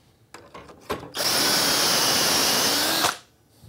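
A power drill bores a dowel hole through a Dowelmax jig clamped to wood, a steady loud whir lasting about two seconds after a few small handling clicks, then spinning down abruptly.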